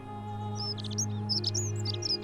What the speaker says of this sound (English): There's a bird in this tree or somewhere that's very loud.